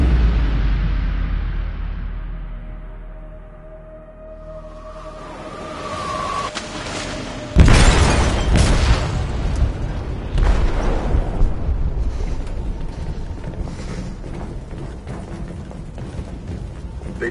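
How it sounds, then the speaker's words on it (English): Explosion in a ship's hold in the video game Detroit, a sudden heavy blast with a rumbling roar after a fading rumble, then a sustained noisy churning and rushing that carries on to the end. "They detonated an explosive in the hold."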